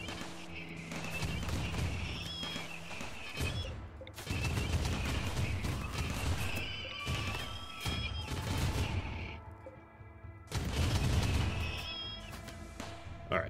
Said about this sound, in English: I'm gonna turn on the back turrets here just for more gunfire